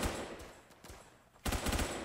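Shotgun blasts in Roblox Phantom Forces on Xbox One, a few sharp booming shots spaced apart, with a louder cluster of rapid reports near the end, no voices.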